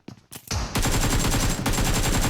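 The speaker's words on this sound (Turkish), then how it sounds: "Oo bir pompalı sesi duydum" Loud bursts of shotgun and gunfire in the PUBG Mobile battle royale game: a few sharp shots at first, then a rapid, continuous volley of close-sounding fire with no talk.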